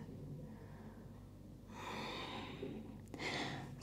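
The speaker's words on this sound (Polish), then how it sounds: "Trzy głębokie oddechy." Deep, audible breaths taken during a vinyasa yoga forward fold: two long airy exhales or inhales follow each other at a slow pace, close and soft, with no talking.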